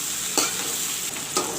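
Onion frying in a pan with bay leaves for a mutton curry gives a steady close sizzle, broken by two brief louder scrapes of stirring.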